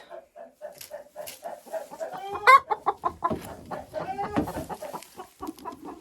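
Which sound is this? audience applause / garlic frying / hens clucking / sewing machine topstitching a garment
hens clucking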